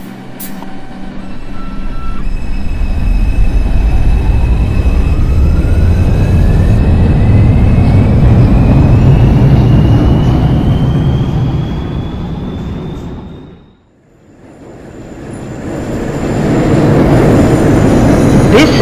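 A simulated New York subway train in the Hmmsim 2 video game, a Manhattan-bound 5 local at Freeman Street, rolls along with steady wheel rumble and a motor whine climbing in pitch, then briefly goes quiet before the rumble builds again.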